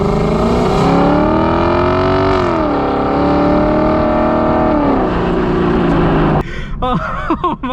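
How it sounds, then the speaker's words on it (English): A 2020 Lexus LC 500's engine accelerates hard from inside the cabin, a loud, dense roar rising through the revs, dipping at a shift and climbing again, then giving way to a voice speaking near the end. "And now we're going to get a little acceleration here."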